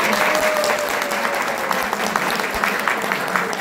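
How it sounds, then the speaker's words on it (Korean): An audience at an academic seminar applauds a presenter after the discussion and Q&A. Dense, continuous clapping fills the hall at a steady level throughout. "발표자께 다시 한번 큰 박수 부탁드립니다"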